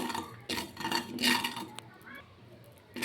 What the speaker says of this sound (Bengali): প্রথমে আমি শুকনো খোলায় কিছুটা কালো জিরে এভাবে ভেজে নেব।